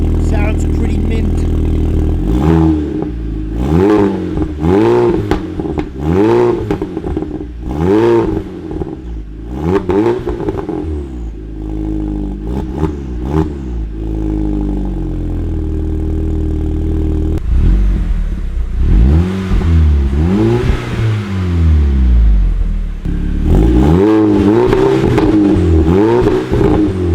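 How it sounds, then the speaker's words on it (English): A 2013 Audi TTS (MK2 TTS Quattro) fitted with a catless downpipe is revved repeatedly in short, loud blips, each rising and falling sharply with a crackling edge, over a steady idle. "this is the first official catless downpipe startup on the 2013 TTS"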